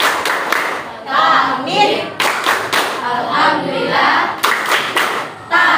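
Classroom group of eighth-grade students clapping in rhythm along with a religious chant, sharp bursts of claps alternating with chanted phrases, loud and close.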